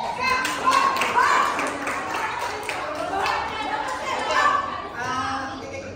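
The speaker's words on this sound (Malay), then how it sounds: "Tepuk tangan sekali." A group of people, children among them, clap their hands in short, scattered bursts over background chatter and talking voices, fairly close and moderately loud.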